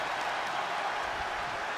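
A large wrestling arena crowd cheering and applauding, a dense, steady roar of voices and claps, continuous and moderately loud throughout, with no distinct single voice.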